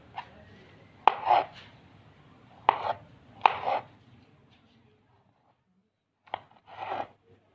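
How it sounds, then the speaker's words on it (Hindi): A knife slices through chikoo (sapodilla) fruit, removing the seeds: a few distinct sharp cuts with soft scraping after each, close and fairly quiet, with long gaps between them. "इसे काटेंगे इस तरह से"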